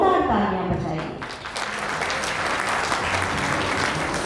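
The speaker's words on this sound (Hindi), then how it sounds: "अपनी जोरदार तालियां बजाइए।" Audience at a hotel association swearing-in ceremony applauding after a folk music performance, a dense burst of clapping that starts over a fading voice and then carries on steadily.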